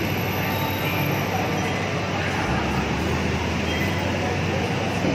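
A steady roar of an MRT metro train rolling through a station in the Philippines, continuous rumble and hiss with the low drone shifting midway.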